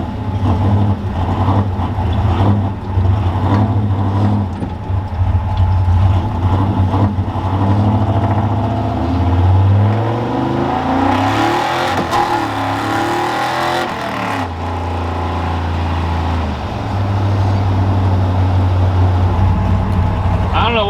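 A Ford F100 truck cruising alongside a town car, its engine a steady low rumble with a brief rise in revs midway, while people talk over it.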